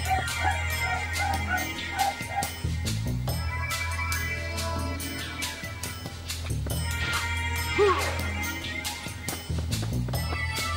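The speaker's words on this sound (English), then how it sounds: "You could probably hear that dog," A dog barks and yips in a stealth-action video game, the short bow-wows recurring over a dense musical and effects backdrop.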